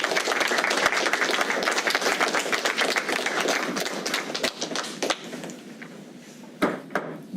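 Applause from an audience at a county commissioners' meeting fills the room with dense, steady clapping that thins and fades toward the end, leaving a few scattered claps.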